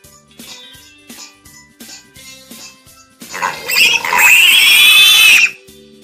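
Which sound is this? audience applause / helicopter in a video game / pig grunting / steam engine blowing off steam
pig grunting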